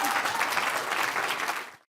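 An audience at a motivational talk breaks into dense, loud applause that holds steady and then cuts off abruptly.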